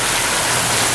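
Heavy rainstorm pouring down hard and close, a dense, loud continuous hiss of falling water with no gaps.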